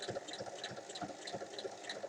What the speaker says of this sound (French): Je viens faire ensuite une surpiqûre tout le long.